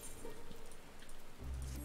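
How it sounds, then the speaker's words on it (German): Rain shower in the video game Final Fantasy XIV, a steady patter of rain falling on a surface, close and continuous, with a low rumble rising near the end. "Dieser Regenguss ist zwar genau das, was wir uns erhofft hatten"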